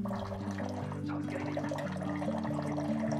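Water pours steadily from an Aquavolta Osmoveda H2 reverse osmosis unit dispensing chilled water, a soft continuous trickle under a low, steady mechanical hum.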